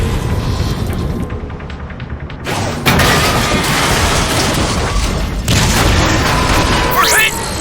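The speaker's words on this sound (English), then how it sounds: "We're under heavy fire!" Heavy booms and blasts from the Transformers: Fall of Cybertron game roll in under urgent voices, the battle din swelling sharply partway through and staying loud and dense.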